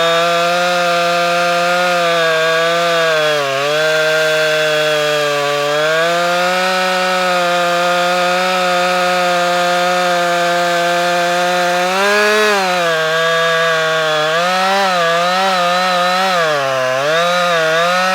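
A Jonsered 2159 or Stihl MS271 chainsaw cuts through wood at close range, screaming loud and steady, with its pitch dropping as it bogs under load and then recovering.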